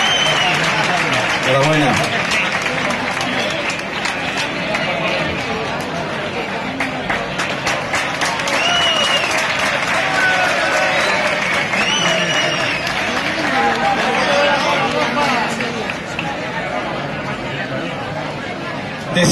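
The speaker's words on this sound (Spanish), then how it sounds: "Un aplauso." Applause from an audience at the prize-giving of a quick-painting contest (pintura rápida), steady clapping throughout, mixed with crowd murmur and a voice speaking over it on a loudspeaker.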